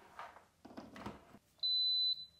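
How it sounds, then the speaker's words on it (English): A Lomi countertop composter gives one clear, steady electronic beep when plugged in. It sounds near and lasts about half a second after a few soft handling noises. "Hear that little beep? That means it's defaulting to eco mode and it's ready to go."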